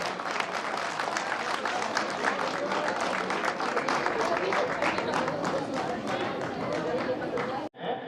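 Loud, sustained applause from an audience at a poetry gathering, dense clapping that holds steady for several seconds before cutting off abruptly near the end.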